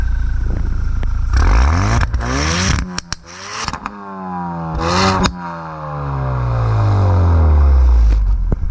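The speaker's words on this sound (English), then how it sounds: "They also added Mountune's in-house performance exhaust, which has a valve in it and sounds really, really nice." A Ford Focus RS with a Mountune valved performance exhaust revs loudly and close, its pitch sweeping up and down through several gear changes with crackles and pops, then settling into a deep, sustained drone.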